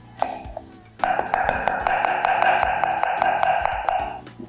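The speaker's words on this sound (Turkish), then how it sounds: "Bir tane soğan doğrayalım." A knife chops an onion on a board in a home kitchen, a quick, even run of crisp strikes for about three seconds under a steady tonal background sound.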